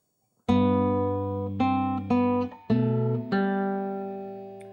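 Guitar plays a short phrase of Minuet in G on open and fretted strings, a low bass note held under five plucked notes that ring closely and cleanly, with no voice.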